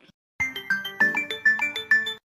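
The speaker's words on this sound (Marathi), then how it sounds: "फोन वाजत आहे ना, बघा ना" A phone rings with a short melodic ringtone, a series of about eight bright electronic tones in a quick, regular pattern that play clearly and alone before stopping.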